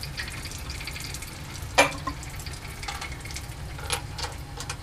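Cold tap water runs steadily through a condenser into a sink, a soft continuous trickle and hiss with a low hum beneath, one sharper clink near the middle and faint drips later.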